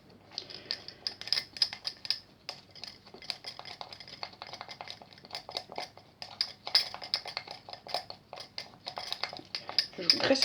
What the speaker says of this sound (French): Alors je vais prendre ce petit couteau-là. On va faire le mélange.